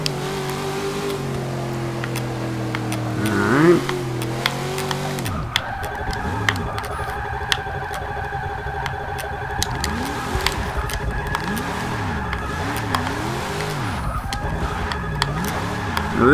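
A racing game's 1949 Mercury Coupe with rear-wheel drive and a drift build spins its tires. The engine drones and revs, then sustained tire squeal swoops and wavers in rising and falling loops for many seconds, loud and close.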